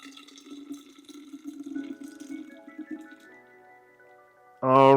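Liquid, likely fresh beet, carrot and orange juice, pours steadily out of a juicer into a container, a soft running trickle that thins out, then ends in a sudden louder clatter.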